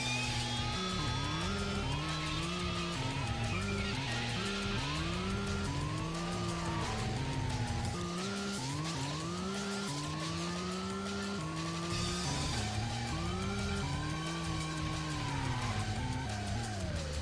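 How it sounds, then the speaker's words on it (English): Car engine in the Racing Lagoon video game, droning steadily over shifting in-game music, with a handbrake turn bringing wavering revs and a possible brief tire squeal partway through. "Just did a handbrake turn in here."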